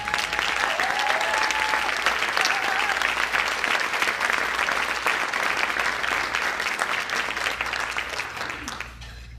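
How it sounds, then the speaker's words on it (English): An audience at a business association luncheon applauds, a dense, steady clatter of many hands clapping that holds for several seconds before gradually thinning toward the end. "I'd like to have a round of applause for them."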